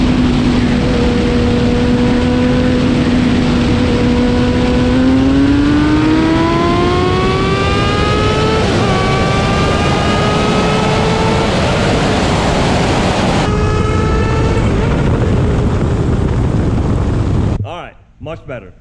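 A Porsche 911 Turbo S and a Kawasaki ZX10R race from a rolling start: a loud engine drone climbs steadily through several gear changes, then cuts off abruptly near the end.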